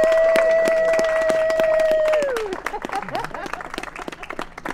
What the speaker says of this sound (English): One more round of applause for Mike Moore.